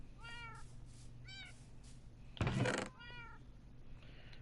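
Cats meowing in the Minecraft video game: several short, clear meows spaced apart, with a burst of louder noisy game sound in the middle and no talking.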